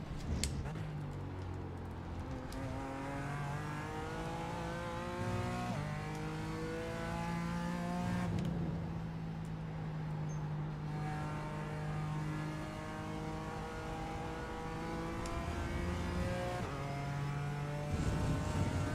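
A BMW M4 race car's engine in iRacing at Road America howls and climbs through the revs, with gear changes breaking up its steady, loud, continuous drone.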